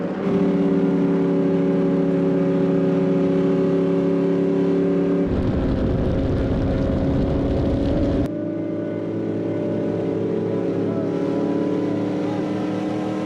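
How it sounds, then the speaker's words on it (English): A NASCAR stock car circles an oval track, its engine a loud, sustained drone that shifts to a rougher tone midway, then settles back into a steady roar. "A pro driver could run 100 laps here, and each one would sound exactly the same"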